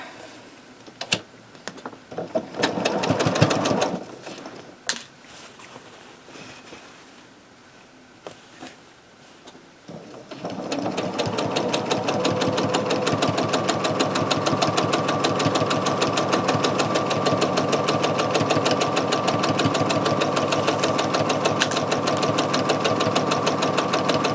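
A sewing machine stitches the edges of a minky quilt, starting with some handling noises before settling into a loud, steady, fast mechanical whir of stitching that runs without a break.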